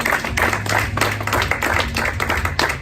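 A church congregation claps and cheers in acclaim of God, a dense, loud ovation of many hands with a slightly rhythmic pulse that continues throughout, with voices mixed into the crowd noise.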